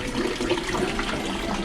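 Water runs into an outdoor bathtub on a street in Malaga, Spain, a steady, close splashing flow with no voices.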